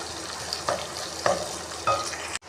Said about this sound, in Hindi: ये मैंने अपनी हंडिया ली थी, उसमें मैंने ऑयल कर लिया था गरम और इसमें हम शामिल कर दिए हैं अब प्याज